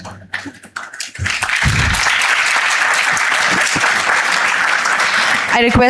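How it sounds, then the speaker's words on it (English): Big round of audience applause at an HR leadership summit in Pune during a felicitation on stage, a loud, dense wash of clapping that swells after a brief spoken moment and holds steady to the end. "Can we have a huge round of applause?"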